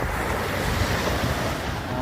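Ocean waves at Pambuhan Beach in the province roll in as a steady, loud wash of surf mixed with wind buffeting the microphone, continuous and unbroken with no voices.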